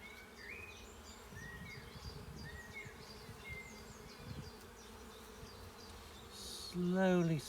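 Honey bees buzz steadily during a late-April hive inspection as a comb slab of sealed brood is slid slowly upward, a continuous near drone with a louder, close pass of buzzing near the end.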